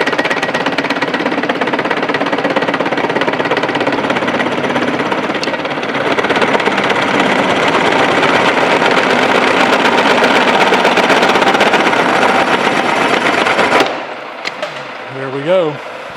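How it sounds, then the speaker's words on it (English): A drill bores through a bronze connecting rod for a steam stoker engine, giving a loud, continuous grinding chatter that runs steadily for most of the time, then stops abruptly and leaves brief faint clinks. "So we'll go ahead now and just drill that on through the rest of the way."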